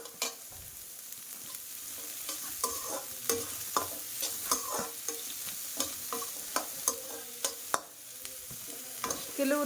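Chopped onion, green chilies and curry leaves sizzle in a pan for idli, a constant hiss broken by repeated clinks and scrapes of stirring, close and clear with no talk.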